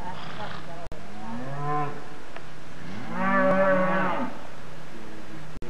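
Cattle on a ranch give out several long, deep moos, a short call near the start and a louder, drawn-out bellow in the middle, with steady outdoor background noise.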